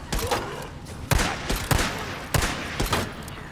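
Loud weapon fire in the video game Days Gone sounds in several sharp bursts and single cracks, spaced irregularly over a few seconds.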